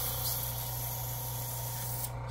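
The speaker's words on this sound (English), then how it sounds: "Spray that last little bit into a little bottle." An airbrush hisses steadily as it sprays the last of the leftover paint into a small bottle, a close, continuous spray that cuts off near the end.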